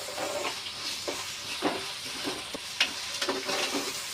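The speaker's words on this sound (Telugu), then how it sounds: "దీనిలోనే వేసేసిన తర్వాత మొత్తం ఏగే వరకు కలపాలండి" Onions, ginger paste and whole spices being stirred and fried in a pan for fish fry biryani, a soft continuous sizzle broken by irregular scraping stirs and clinks of a spoon.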